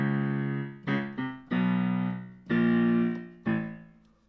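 Solo piano plays descending left-hand octaves from the ballad section of a song, several notes struck one after another, some held longer, each decaying cleanly in a quiet room.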